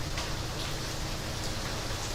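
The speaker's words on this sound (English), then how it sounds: "it's raining a little bit more" Steady rain falls during a Florida rainstorm, a dense even hiss of drops hitting surfaces that holds constant throughout, with no voices.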